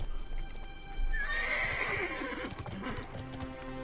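Horse mount in the online fantasy game Bless Online, with a clear whinny rising mid-clip over a steady clip-clop of hooves, close and fairly loud.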